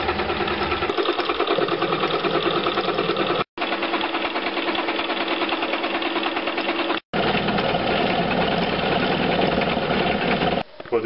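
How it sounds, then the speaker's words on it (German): A metal milling machine faces the flat end of a steel workpiece while making a tool for Porsche, giving a loud, steady, buzzing machining drone that is close and continuous, with two brief silent breaks. "Wir fräsen die eine Stirnseite plan."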